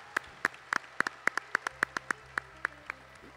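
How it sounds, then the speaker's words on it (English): A few sparse, crisp handclaps at the World Dairy Expo Junior Show champion presentation, roughly a dozen separate claps in a loose, uneven rhythm, fairly quiet and with no voices. "How about a big round of applause for these champions at the World Dairy Expo Junior Show?"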